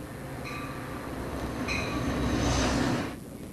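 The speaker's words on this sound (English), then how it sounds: "That's Amtrak's eastbound Broadway Limited on the South Track, otherwise known as Track 1." Amtrak's eastbound Broadway Limited passenger train rolls past on the South Track at Horseshoe Curve, a steady rumble of wheels and cars that swells toward the middle, carries faint brake squeal tones, then drops away at the end.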